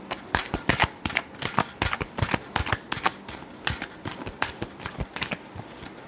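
Tarot cards are shuffled by hand, with a rapid run of crisp riffling flicks and slaps at an uneven rhythm, close and clear, no voices.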